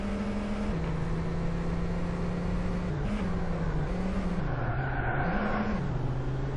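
Engine of a Peugeot 406 four-door sedan in the TORCS racing game drones steadily at a modest pitch, dipping and rising slightly as gears and throttle shift, loud and continuous with no talking.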